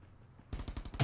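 A short burst of automatic gunfire in the battle royale game Rules of Survival, which starts abruptly after a quiet moment and then fires rapid, evenly spaced shots up close.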